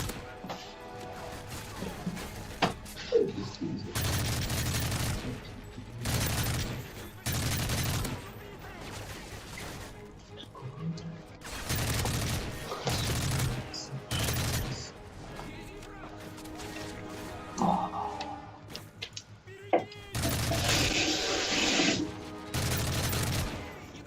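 Repeated bursts of automatic gunfire in a shooter video game, loud volleys separated by quieter gaps, with occasional sharp impacts and faint background voices.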